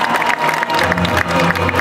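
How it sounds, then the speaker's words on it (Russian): An audience applauds a performer at a stage event, steady close clapping from many hands with a few cheers mixed in, continuing without a break. "Ваши аплодисменты, Наталья Чапко!"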